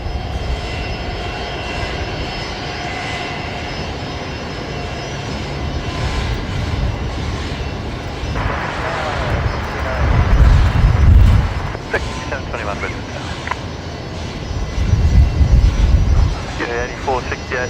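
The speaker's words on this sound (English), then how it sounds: "We do have an inbound Dash 8." Dash 8 aircraft arriving at Brisbane Airport, a steady engine roar that swells twice into louder rumbling passes, heard from a distance with radio chatter and talk over it.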